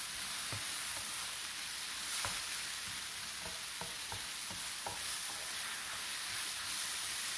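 Noodles sizzle and fry in a pan while being stirred, a steady close hiss with scattered soft clinks and scrapes of the utensil against the pan throughout.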